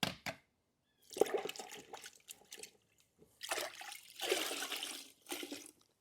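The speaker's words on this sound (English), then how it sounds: "now, we'll grab the sponge" A sponge being dunked and squeezed in a bucket of rinseless car wash water, heard as close sloshing and dripping splashes in several bursts separated by short quiet gaps.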